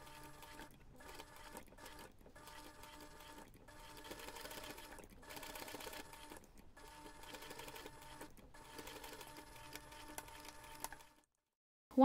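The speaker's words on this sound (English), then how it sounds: "you can take this to the machine, top stitch around the pompon, and then top stitch around the entire Santa." A sewing machine top stitches around the pompon and outline of a fabric Santa ornament, running in steady bursts of rapid mechanical clatter with short pauses between runs, close and fairly quiet, ending in silence.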